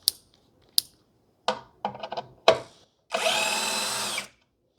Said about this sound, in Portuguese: Vou até colocar aqui no modo parafusamento